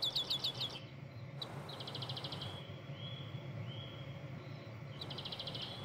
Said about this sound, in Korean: 어, 방울새 소리다